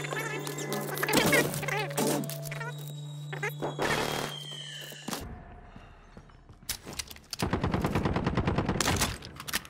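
Light machine gun fire in a video game comes in several sharp rapid bursts with gaps between them, loud and close, alongside other game sounds.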